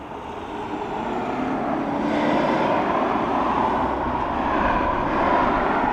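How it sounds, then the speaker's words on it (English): An American Airlines Boeing Dreamliner takes off at Dublin Airport, its jet engines a steady, broad, distant roar that swells slightly and holds throughout. "I will see if I can catch the takeoff of the American Airlines Dreamliner."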